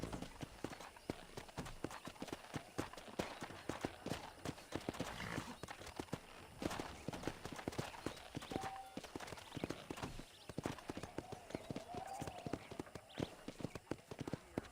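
Horse hooves clip-clop steadily across a ranch in the video game Red Dead Redemption, a busy run of near, rhythmic hoofbeats with a brief whinny and ambient game sounds around them.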